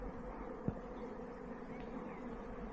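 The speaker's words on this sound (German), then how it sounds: "es summt hier, das ist unglaublich. Es sind wahrscheinlich alles so zu sehen Bienen." Many bees buzz outdoors along a hiking trail near a chapel, a faint steady hum drifting in the background with one small tap partway through.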